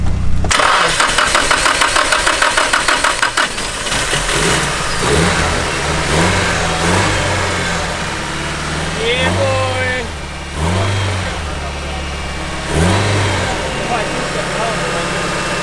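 An engine sputters and catches, then revs up and down in repeated bursts before settling, with voices talking now and then.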